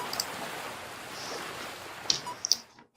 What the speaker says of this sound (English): Suddenly, I heard the sound of waves crashing against the shore.